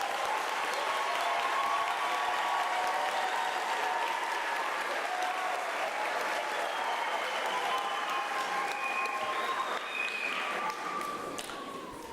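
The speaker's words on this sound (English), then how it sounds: "let's give our graduates a big, big hand of applause" Audience at a university graduation ceremony applauding graduates, a sustained dense wash of clapping from a large crowd that tapers off near the end.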